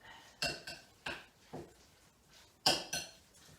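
A spoon stirs homemade guacamole with chopped cilantro in a bowl, giving several sharp, quiet clinks and scrapes spaced irregularly, close by.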